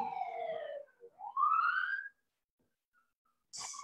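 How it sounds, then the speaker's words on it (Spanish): An ambulance siren passes along a residential street, its wail sweeping down and then back up, loud and fairly close, before cutting off into silence. A short noise bursts in near the end. "No, una ambulancia."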